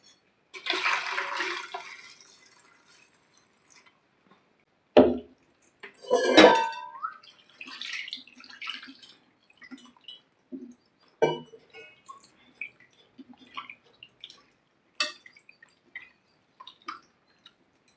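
Half a kilo of raw chicken pieces and liver are rinsed in clean water in a vessel, with bursts of splashing and pouring between quiet gaps, plus clinks of the pot and drips.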